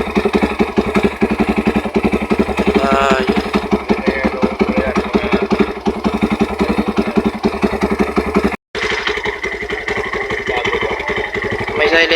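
Motorcycle engine idling with a stock exhaust silencer, a rapid, even putter with light mechanical clatter, close and steady, briefly cutting out before resuming, with someone talking over it.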